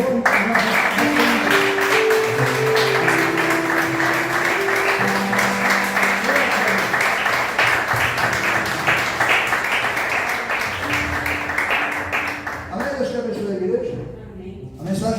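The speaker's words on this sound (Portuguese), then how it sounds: "Vamos dar uma salva de palmas ao Senhor." A church congregation gives a long round of applause to the Lord, loud sustained clapping blended with music and voices for most of the stretch before it thins out and fades near the end.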